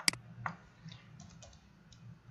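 Computer keyboard being typed on, a short run of light, irregular key clicks, close and quiet with no voices.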